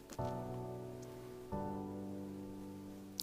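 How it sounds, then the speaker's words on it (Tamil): Steady rain falls on a road near Dharmapuri, Tamil Nadu, a continuous wash of noise over a droning hum. The hum swells at the start and again about halfway through, with no talk. "இந்த ரோட்டில் எப்படி இருக்குது மழை பெஞ்சிக்கிட்டே இருக்குது"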